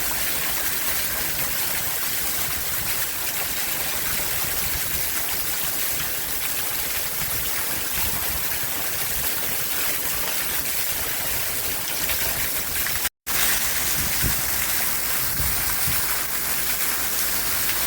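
Heavy downpour in Kingston, Jamaica, a loud, unbroken roar of rain drumming on surfaces nearby, steady throughout apart from one momentary dropout near the end.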